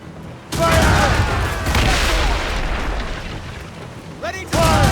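Ship cannons fire volleys during a naval battle in Assassin's Creed Rogue: heavy, rolling booms that carry on almost without a break. Shouted crew commands ring out over the roar, and there is a short lull before another loud blast.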